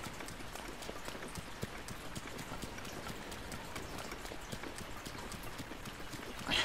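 Horse hooves clip-clop in The Legend of Zelda: Breath of the Wild, a fast, steady patter of quiet hoofbeats running continuously, with a louder knock at the very end.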